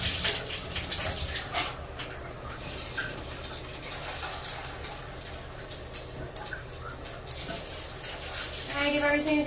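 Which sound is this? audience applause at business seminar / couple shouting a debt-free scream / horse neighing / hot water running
hot water running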